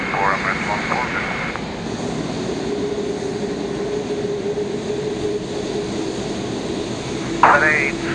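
An Emirates Boeing 777 taxis at Prague airport, its jet engines holding a steady, loud whine and rumble. Short bursts of radio chatter come at the start and near the end.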